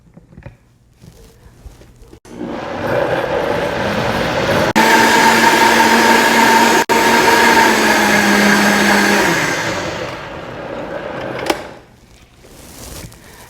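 Blender grinding a cashew salad dressing with lemon juice: the motor starts abruptly, whirs loudly and evenly for about eight seconds with small pitch shifts, then winds down and stops.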